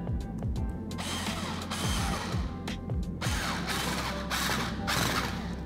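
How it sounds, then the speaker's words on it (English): A flathead or Phillips screw gun tightening a hose clamp on tubing fitted to a Hei-Vap rotary evaporator, with continuous close whirring and ratcheting clicks, some bursts louder than others, and no voices. "using a flathead or Phillips screwdriver or a flathead or Phillips screw gun"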